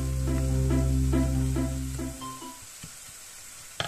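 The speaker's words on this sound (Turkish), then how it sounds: "Yağ ısındıktan sonra çekmiş olduğumuz karışımı ilave ediyoruz." A minced mixture meets hot olive oil in a pan, a steady sizzle under a low continuous hum with rhythmic harmonic pulses, then settling into quieter scattered crackles and a sharp clink near the end.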